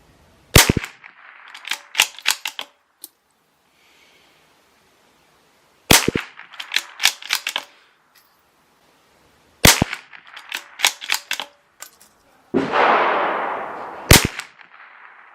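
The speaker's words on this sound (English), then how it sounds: "Let's do a 5-shot group of this stuff." A Bergara B-14R .22LR rifle fires five sharp, loud shots spaced several seconds apart, each followed by lighter metallic clicks and clatter from working the bolt.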